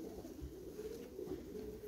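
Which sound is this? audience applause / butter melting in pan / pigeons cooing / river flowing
pigeons cooing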